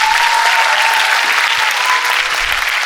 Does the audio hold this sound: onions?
no